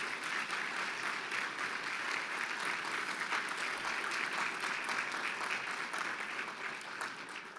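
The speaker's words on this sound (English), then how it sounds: "we give you the appropriate recognition and applause" Luncheon audience at an economic club event in a large room applauding volunteers and young professionals, with steady, dense clapping from many hands that holds for several seconds and eases slightly toward the end.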